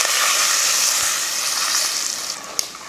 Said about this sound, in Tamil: இதை வதக்கிடுவோம்.